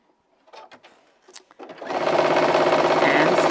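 A sewing machine stitches along a seam of a fabric bag, starting after a few soft handling taps and then running steadily and loudly for about two seconds.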